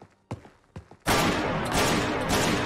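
A revolver shotgun fires in the Receiver video game mod, a Brazilian prototype weapon: two sharp, separate shots, then a very loud, sustained blast of fire that fills the rest of the moment.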